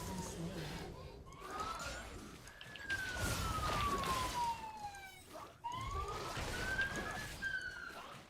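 A police siren wails outside a house, its rising and falling tone sweeping slowly up and down at moderate distance, heard faintly through walls while someone talks over it.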